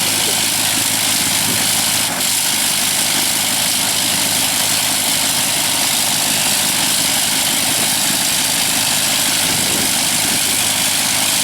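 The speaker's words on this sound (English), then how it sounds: "Once it's running, it's a very, very smooth and easily quiet." A Sopwith Pup biplane's rotary engine idles close by, a constant loud droning roar that stays steady for the whole stretch without any voices.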